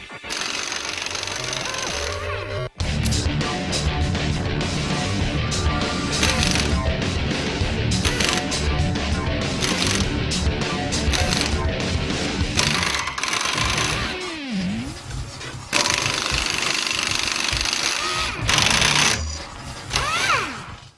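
A Chicago Pneumatic CP7748 half-inch drive composite pneumatic impact wrench, a tire-changing and industrial maintenance tool, runs loud and close as a dense continuous rattling hammer, with short breaks near the start and about two-thirds of the way through.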